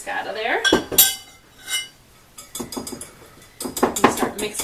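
A whisk is lifted out of a mixing bowl of no-cook playdough dough, giving bright metallic clinks and scrapes against the bowl in short bursts, with a faint voice briefly in the background.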